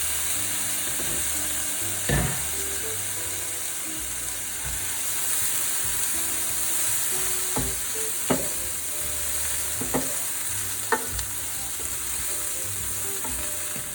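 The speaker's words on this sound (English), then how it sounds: "That sizzle is so soothing that I decided to leave the sound on for this part of the video." Steady frying sizzle of vegetables in a pan, a constant bright hiss with occasional soft pops and clicks of stirring, no voices.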